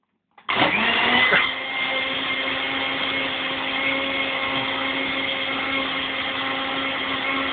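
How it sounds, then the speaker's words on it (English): A blender starts abruptly and runs loud and continuous at close range, whirring as it purees cake into a milkshake, with a brief grinding surge at first before settling into an even, high-pitched drone. "And now it's time to mix it up. Will it blend?"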